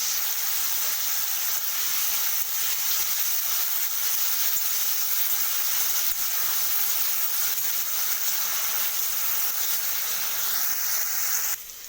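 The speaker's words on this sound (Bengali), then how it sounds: "তেলটা দিয়ে আমি ছাতুগুলোকে প্রথমে হালকা করে ভেজে নেব তো দেখুন অল্প নুন আর অল্প হলুদ দিয়ে আমি ছাতুগুলোকে ভেজে নেব" Mushrooms frying lightly in oil with a little salt and turmeric, giving a steady, close sizzle and hiss that runs unbroken throughout, with no voices over it.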